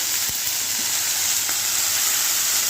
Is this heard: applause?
no